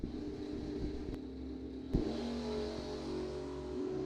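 An 06 Race Tech dragster's engine runs at a drag racing bracket event, a steady, fairly loud drone rich in harmonics with a sharp thump near the middle. No voices are heard.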